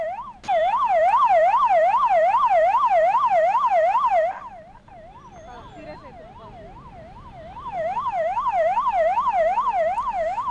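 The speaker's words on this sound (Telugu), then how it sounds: "ఎమర్జెన్సీలో మాత్రమే వాడాల్సిన సైరన్ ని తమ వ్యక్తిగత అవసరాలకు ఇష్టానుసారంగా వాడేస్తున్నారు." An ambulance siren wails loudly in a rapid rising and falling pattern, drops away briefly, then returns more faintly, with road traffic underneath.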